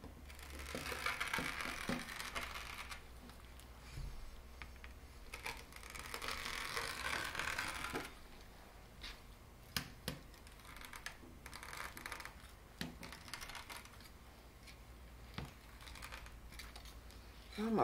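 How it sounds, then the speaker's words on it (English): A blade cutting through deco mesh on a cutting mat, heard as faint, close scratchy rasping and soft ticking clicks, with longer swishing stretches early on and scattered light taps later. "I'm cutting them 8 inches wide so I can stretch it across my cutting mat here and cut"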